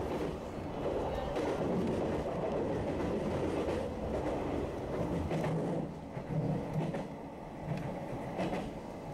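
A train runs steadily along the Tohoku Main Line near Nagamachi Station in Sendai, a continuous close rumble with rhythmic rail clatter throughout.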